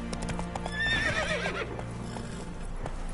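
Roach, Geralt's horse in The Witcher 3 game, gallops with quick rhythmic hoofbeats and lets out a loud, shrill whinny midway, close and clear over a low background hum.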